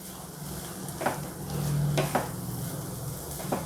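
Veg Schezwan fingers are tossed with sauces in a hot pan, giving a continuous sizzle broken by several sharp scraping and stirring strokes, close and fairly loud, with no talk.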